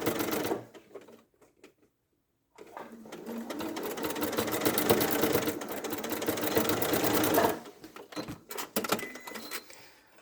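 A sewing machine runs in a steady, fast mechanical whir for several seconds while stitching around a curve, preceded by short stop-start bursts and a brief pause, then ending in a few choppy runs.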